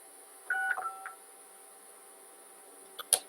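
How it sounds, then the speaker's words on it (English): A telephone keypad sounds a few short dialing tones in quick succession while a call is placed, followed after a pause by a couple of brief clicks or beeps, close over a faint steady hum. "let's see if we can actually make a phone call real quick"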